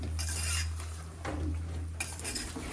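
A spoon scrapes and clinks against a pan while food with chili powder is stirred, bursts of close metallic scraping separated by quieter stretches over a low steady hum.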